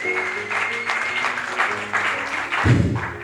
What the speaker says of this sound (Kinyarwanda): bakamukomera amashyi mu izina rya Yesu